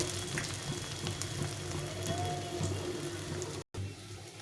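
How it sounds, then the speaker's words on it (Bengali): Large onion fritters deep-frying in hot oil give a continuous, fairly loud sizzle that holds steady throughout, broken only by a momentary dropout near the end. "এই চারটা মতো বড়া ভেজে নেব"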